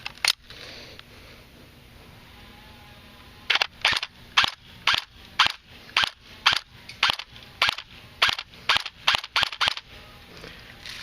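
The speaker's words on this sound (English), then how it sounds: "give you a little view of the blowback" An S&T airsoft PPSh-41 fires with blowback, giving a run of sharp, close, evenly spaced cracks with a mechanical clack on each shot after a quiet start.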